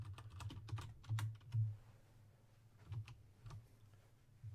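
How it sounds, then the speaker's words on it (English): Computer keyboard typing during an online coding workshop, a quick irregular run of clicky keystrokes with a few heavier thumps, close up and moderately loud against a low hum. "So my keyboard is very loud in the Discord."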